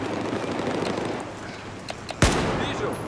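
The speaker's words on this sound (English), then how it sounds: "I don't have no suspensors yet, so I'm just shooting people. Everybody hear every bullet sound." Gunfire in the video game Battlefield 4: a few faint distant pops, then one sharp, loud shot cracking out over low background noise.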